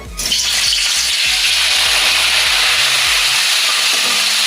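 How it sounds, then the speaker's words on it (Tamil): Loud, steady sizzling of chicken sausages frying in hot oil, a dense continuous hiss with faint low clatter underneath. "விட்டு அது சூடானதும் அதை பொரிச்சு எடுப்போம்."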